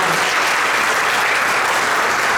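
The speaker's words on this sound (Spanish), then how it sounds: "le pedimos unas fuertes palmas" Audience applause at an academic event on financing tools for small and medium businesses, a steady, loud burst of many hands clapping throughout the short stretch, with no break and no talk over it.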